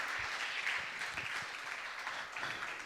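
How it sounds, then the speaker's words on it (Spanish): Congregation applauding during a church service, a steady broad wash of clapping from many people at moderate level with no talk over it. "Dale un aplauso al Señor si tú te gozas en esto."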